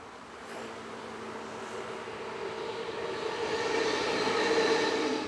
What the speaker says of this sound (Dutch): Deze trein heeft als bijnaam de Buffel.